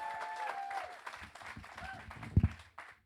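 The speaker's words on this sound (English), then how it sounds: "So on three, we're going to shout a round of applause" A comedy club audience at a new act night greets a comedian taking the stage with a brief burst of clapping and cheering, mixed with a host's voice, the applause peaking near the end.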